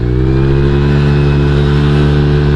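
A Honda Vario 150 scooter engine accelerates, a loud, steady close-up drone with a strong rising harmonic whine held through the whole stretch, no voices present.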